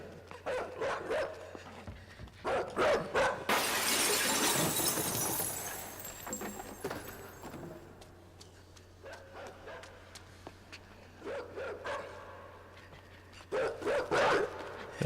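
A dog barks in the dark puzzle-platformer video game INSIDE, with repeated sharp barks in bursts, a loud crashing shatter in the middle, and more barking and yips later, fairly near, with no talking.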